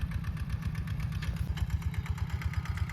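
A Thai walk-behind tractor engine chugs steadily with a rapid, rhythmic thumping pulse, continuous and fairly close, with no talking.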